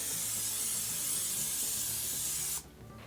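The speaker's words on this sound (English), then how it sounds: "spray non-stick cooking spray in the pan" A steady hiss of non-stick cooking spray from an aerosol can into a large skillet runs for nearly three seconds, then cuts off sharply, leaving quiet room tone.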